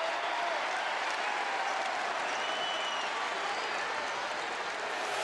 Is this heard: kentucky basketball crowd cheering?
yes